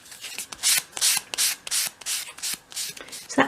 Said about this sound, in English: Finish that piece off in your hand with a piece of 500 grade sandpaper, just to really tidy up the edges.